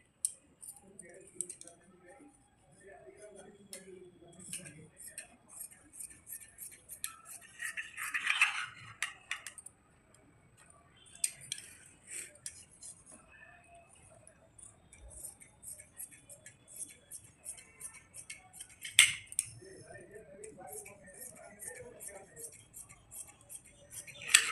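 Scissors cutting fabric for the pocket of a ladies' pant, heard as sparse light snipping clicks scattered through a quiet room, with faint occasional voice in the background.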